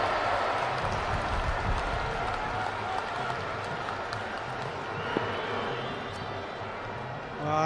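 A cricket crowd at Edgbaston roars and applauds during a T20 international, a dense continuous cheer that fades slightly over the stretch, with a commentator's voice over it.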